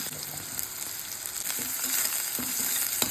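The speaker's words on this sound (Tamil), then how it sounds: "வெங்காயம் வதங்கிட்டு இருக்கு" Onions sizzling and sautéing in a pan, with occasional stirring scrapes and clicks, close up and steady, no voices.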